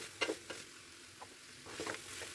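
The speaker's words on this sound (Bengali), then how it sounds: "আমি 1 ইঞ্চির মতো আদা গ্রেট করে রেখেছিলাম, সেটা আমি দিয়ে দিলাম" Grated ginger, about an inch's worth, frying in a pan for a vegetable dalia khichuri, with soft sizzling and a few stirring scrapes in quick bursts, fairly quiet and close.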